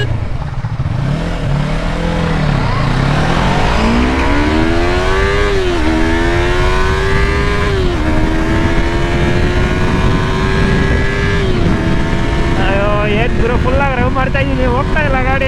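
A Yamaha R3 motorcycle with a raw engine and no quickshifter revs hard and accelerates up through several gears, its loud rising whine dropping at each shift, with wind rush throughout.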